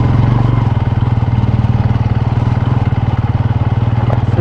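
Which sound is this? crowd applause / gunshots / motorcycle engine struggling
motorcycle engine struggling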